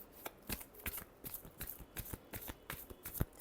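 Tarot cards are shuffled quickly and quietly in a rapid rhythmic riffle of crisp paper slaps, close up and alone.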